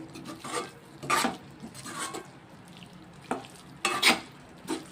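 Brinjal curry with chili powder cooking in a pan, a soft, close sizzle broken by several short scraping stirs spread through the stretch, quiet and with no talking.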